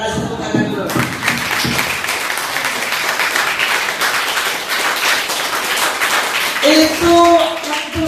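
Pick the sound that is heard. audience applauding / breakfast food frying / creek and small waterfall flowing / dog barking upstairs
audience applauding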